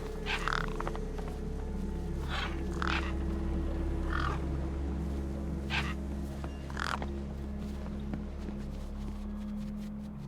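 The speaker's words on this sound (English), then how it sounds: "Damn birds!" Harsh bird caws in the game Beyond A Steel Sky, about six short bursts spaced irregularly over a steady low ambient hum and music bed, with no speech.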